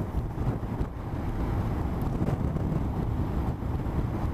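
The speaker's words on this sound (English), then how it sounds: "So this wind is a dream." Steady, loud wind buffeting a microphone on a motorcycle cruising along a highway near Leduc, Alberta, a continuous low roar with no break.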